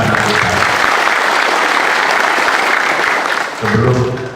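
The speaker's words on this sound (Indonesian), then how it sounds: "Aplaus buat pasangan kita." Crowd at a campaign rally applauds the candidate pair for a regent election, loud sustained clapping close by that fades slightly, with a voice briefly breaking in near the end.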